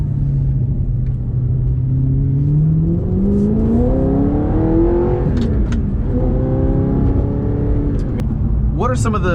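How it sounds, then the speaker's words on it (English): Audi R8 with a V8 and gated manual gearbox revving hard from inside the cabin, the engine note climbing through a couple of gear pulls in a loud, continuous scream. "it just sounds like a finely tuned race engine V8"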